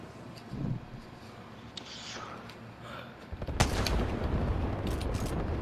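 Bolt-action burst-fire gunshots in Apex Legends arrive as a few sharp cracks partway through, then a denser run of shots that ends the stretch, mixed with faint background voices.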